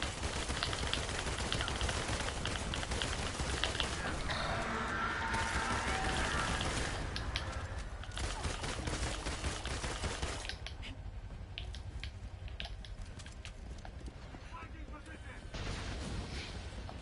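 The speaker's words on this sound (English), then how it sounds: "All the missile guys are shooting at me." Missile-firing enemies in an Avengers video game shooting at the player, a dense continuous barrage of blasts and rattling fire filling the whole stretch, loud and steady with brief dips.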